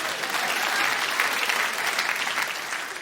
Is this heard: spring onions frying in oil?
no